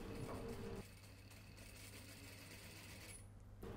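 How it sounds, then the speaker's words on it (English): A sewing machine stitches the facing along the bottom of a dress's wrap-over, a quiet, steady fast-running hum of the motor and needle that continues throughout, with a slight shift in tone near the start. "Natalie is stitching the facing at the bottom of the wrap-over."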